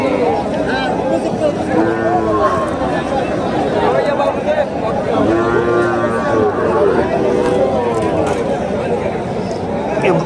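Cattle moo repeatedly at a busy cattle market ahead of Qurbani, drawn-out low calls rising over steady crowd chatter and people talking nearby.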